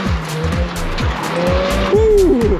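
A 2007 Mazda Miata NC with wide tires on an autocross course, its engine revving hard through rhythmic gear pulses, then tires squealing loudly as it skids through a turn, close and prominent.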